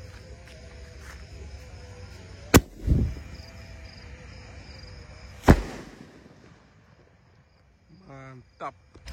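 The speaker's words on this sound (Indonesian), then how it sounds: "Lanjut di sini ada Basoka Roman candle, pelontar yang jumbo guys" Jumbo Basoka Roman candle firework launching at night, with two sharp, loud bangs a few seconds apart, the first trailed by a brief whoosh, over a steady background of crickets and insects.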